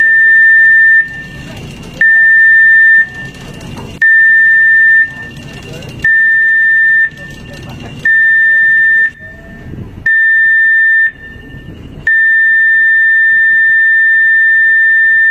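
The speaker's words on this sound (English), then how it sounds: "The signal you have just heard was the general emergency alarm" A ship's general emergency alarm sounded for familiarization: a loud, steady electronic tone in seven short blasts of about a second each, then one long continuous blast, with no talk.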